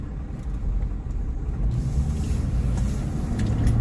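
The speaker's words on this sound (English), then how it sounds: "I'm sitting here stuck in traffic" Road traffic rumbles steadily around a slow truck stuck in a jam, heard from inside the cab as a low continuous engine and tyre drone with faint higher hiss, no talking.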